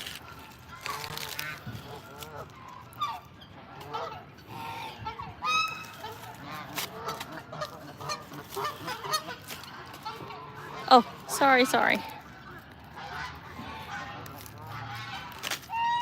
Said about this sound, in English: you can see our snow goose coming up in the back